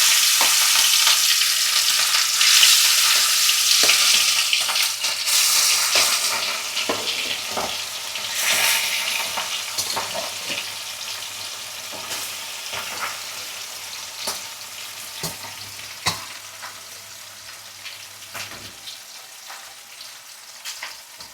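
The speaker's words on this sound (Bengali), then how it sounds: "দেখুন সর্ষের তেল দেওয়া হচ্ছে, মাছগুলো ভাজা হবে।" Rohu fish frying in hot, smoking mustard oil for a Bengali fish curry, a steady loud crackling sizzle with occasional sharp pops, easing slightly over time as the fish cooks, with no talking.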